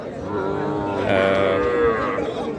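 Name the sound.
cattle mooing at a cattle market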